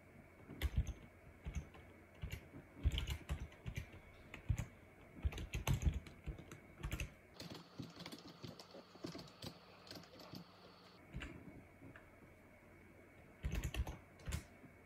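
Close clicking keystrokes on a computer keyboard while a password is entered at a Linux terminal, quick irregular bursts of taps with short pauses between them, no voices.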